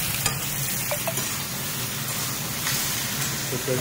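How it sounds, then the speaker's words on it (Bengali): Onions and chicken sautéing in a home kitchen pan, a soft continuous sizzle broken by a few scrapes and stirs of a spatula, fairly quiet and close, with no talk. "মা এখানে কষাচ্ছে"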